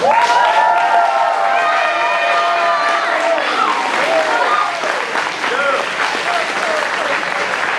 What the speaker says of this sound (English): one last big round of applause for Justin Suggs